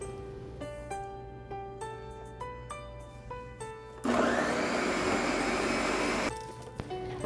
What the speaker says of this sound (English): blend the onions and 1 cup of white rice and a little